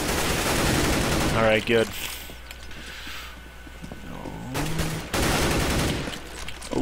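An M4A4 rifle in Counter-Strike on the Inferno map fires in loud automatic bursts at the start and again near the end, separated by quieter in-game mechanical noise, while a player briefly speaks.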